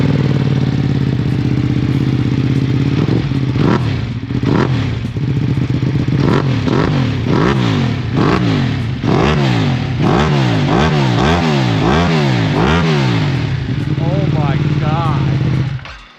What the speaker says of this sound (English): That's one of the best sounding bikes of all time with that exhaust system.